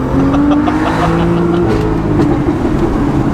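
BMW M2 engine and modified exhaust revving, a loud, close, steady growl with rising pitch that holds throughout, with no talk over it.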